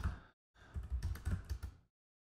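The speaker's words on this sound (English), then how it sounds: "If I could type well, that'd be better." Fingers type on an Apple Mac computer keyboard in one short flurry of quick, soft key clicks, close and alone, with no voices.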